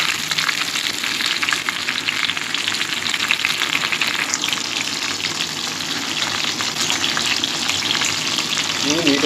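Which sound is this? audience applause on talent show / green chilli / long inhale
green chilli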